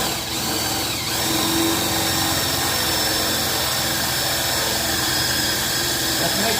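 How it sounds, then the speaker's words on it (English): A power drill drives screws into a half-size DIY cornhole board, a dense, steady whirring grind that runs close and loud without a break. "then you're using the drill."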